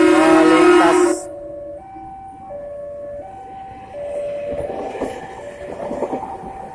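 A morning commuter train passes a railway crossing with a loud rush, followed by a crossing bell ringing steadily in a repeating two-tone pattern as wheel rumble and clatter rise again near the end.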